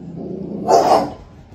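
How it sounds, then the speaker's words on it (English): A dog lets out a short, throaty growl that swells into a brief snarling bark at its peak and then fades, loud and close over a low rumbling background. "what might be the reason as to why she's growling?"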